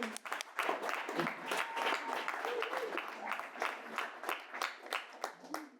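An audience at a panel debate on voluntary versus carbon compliance markets claps in a sustained burst of applause that rises and falls, with some voices in the crowd beneath it.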